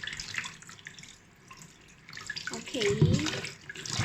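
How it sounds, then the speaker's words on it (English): Tap water runs over fish being washed after salting in a home kitchen, a soft splashing stream that grows louder toward the end, with a brief spoken word over it. "And then you wash it with water."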